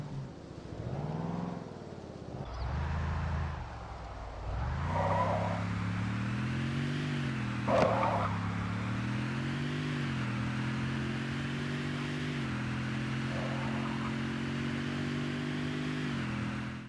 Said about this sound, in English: you can hear the roar of the engines come to life with sounds that respond to your throttle